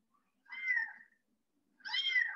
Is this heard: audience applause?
no